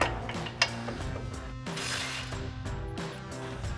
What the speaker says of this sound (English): we're going to remove the nut for our upper ball joint to our knuckle